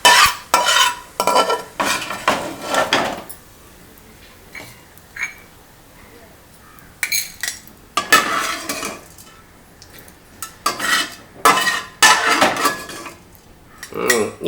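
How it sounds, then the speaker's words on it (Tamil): A spoon stirs and scrapes urad dal roasting in oil in a metal pan, bursts of clinking, scraping strokes coming in irregular clusters with brief pauses and a faint sizzle underneath. "அந்த உளுந்து வறுத்துட்டாங்க எண்ணெயில்"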